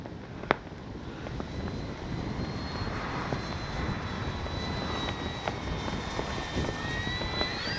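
An FMS PC-21 Pilatus RC model airplane flies at a distance, its steady propeller whine drifting and rising in pitch across a broad outdoor wind-noise backdrop, with a sharp click near the start.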